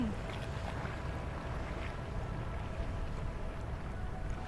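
Harbour ambience at Malé in the Maldives, with moored boats on clear water: a steady wash of wind and water noise holds evenly throughout, with no distinct engine or voice rising above it.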